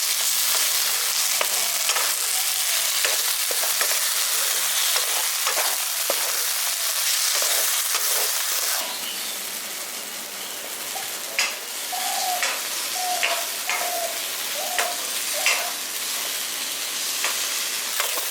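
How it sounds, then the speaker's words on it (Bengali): Capsicum fries with masala in a pan for a village-style curry, a loud continuous sizzle under repeated scraping stirs, the hiss dropping slightly midway while rhythmic spoon strokes continue up close, no voices. "এবার মশলাটার সঙ্গে একটু কষিয়ে নিচ্ছি।"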